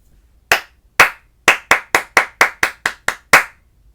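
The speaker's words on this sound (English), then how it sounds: "Tell me what fruits I'm clapping." Ten sharp hand claps tap out a rhythm of uneven spacing, some pairs quick and some long, loud and close in a quiet room during a children's music lesson on reading rhythms with fruit names.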